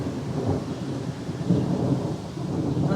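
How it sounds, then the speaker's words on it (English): Thunder from a summer storm rumbles nearby, a deep continuous roll that swells and fades with a light rustle of rain, and no voices. "there's a little bit of thunder still going on around here"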